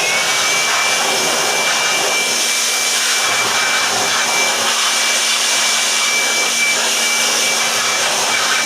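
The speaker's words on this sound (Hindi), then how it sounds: "तो बेहतर यही है कि ब्लोअर के साथ आपकी सफाई करें तो इसकी बेहतर तरीके से सफाई होगी।" An electric blower roars steadily at close range, cleaning dust out of a home UPS unit with a constant loud whooshing airflow and a faint high whine, unbroken throughout and with no talking.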